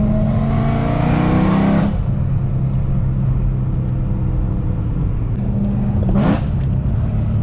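A BMW E92 M3 V8 roars hard under acceleration on a road rally, climbing through revs close-up before a shift, then droning at speed and surging again into another brief rev.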